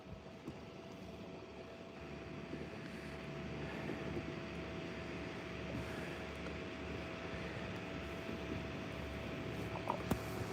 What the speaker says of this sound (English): I'm pushing a 250 horsepower 4-stroke back there.